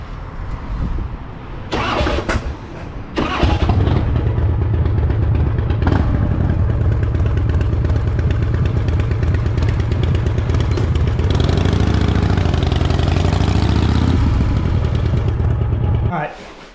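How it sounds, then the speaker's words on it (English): A motorcycle engine starts with a few sputtering bursts, then runs loud and close in a sustained drone with a rising rev partway through before cutting off. "at least I got a motorcycle ride in"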